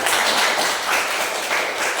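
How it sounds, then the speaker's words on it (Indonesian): A class of students claps together in a dense, continuous wash of applause, loud and even for the whole moment. "sekali lagi kita tepuk tangan bersama untuk kita"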